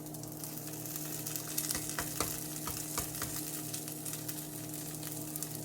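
A barbecue chickpea quesadilla with cheese sizzles and fries steadily in a greasy pan after being flipped, a close, continuous crackle with scattered pops and light scraping, and no talking.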